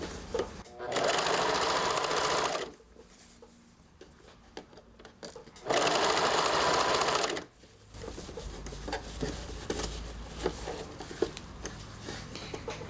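Sewing machine stitching a bolero collar, two loud rapid bursts of stitching separated by quieter stretches where a person talks.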